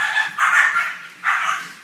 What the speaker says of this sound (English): that's a dog fight.